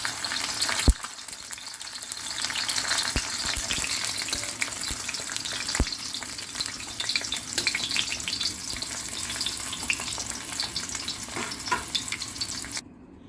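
Fish sizzling and frying in a pan on a home stove, a steady crackling hiss held for the whole stretch, with a few sharp pops and utensil clinks near the start and middle.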